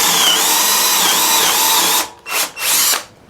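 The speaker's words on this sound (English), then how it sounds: "going to be pre-drilling holes on this piece of wood so it doesn't split" Cordless brushless hammer drill boring pre-drilled holes into a fresh piece of lumber, a loud continuous whine for two seconds followed by two short bursts as the bit is pulsed, no talking.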